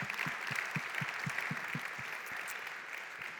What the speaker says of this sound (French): Applaudissez-les, s'il vous plaît. On les applaudit.